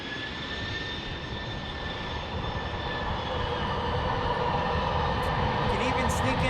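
An Airbus A321neo at San Diego International Airport roars steadily with a broad, loud jet engine rush that swells slightly louder toward the end, with a thin whine above it.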